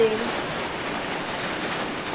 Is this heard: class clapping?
no